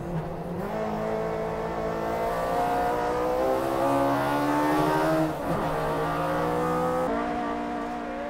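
An Annex-tuned Toyota AE86 Hachiroku race car screams through corner entry on a track, its engine note high and sustained, shifting pitch as it lifts and rolls back on throttle, loud and close.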